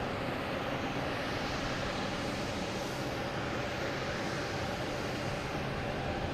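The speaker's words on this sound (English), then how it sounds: "Here is a Spirit Airlines A320 coming in from Detroit." A Spirit Airlines Airbus A320 coming in to land at Boston Logan Airport makes a continuous broadband jet roar that stays steady and fairly distant for the whole stretch.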